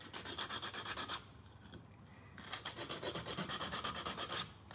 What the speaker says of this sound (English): I can just sand a bit. Very gently, I'm pressing so light.